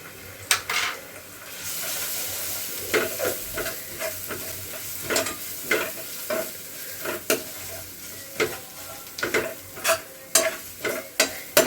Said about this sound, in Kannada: ಇನ್ನೊಂದ್ಸಲ ಚೆನ್ನಾಗಿ ಮಿಕ್ಸ್ ಮಾಡಿಕೊಂಡು ಫ್ರೈ ಮಾಡ್ಕೋಬೇಕು.